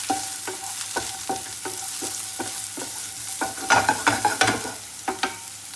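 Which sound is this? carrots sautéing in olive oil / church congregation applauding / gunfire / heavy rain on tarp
carrots sautéing in olive oil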